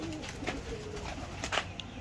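A breeding pair of pigeons, a hen and her mate, coos in a small loft, low, soft murmuring calls close by with a few light taps, and no speech.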